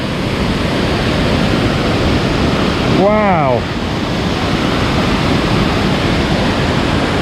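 A river rushes down into Martvili Canyon in Georgia, a loud, continuous broadband roar of falling water, close by and steady throughout, while a voice briefly exclaims partway through.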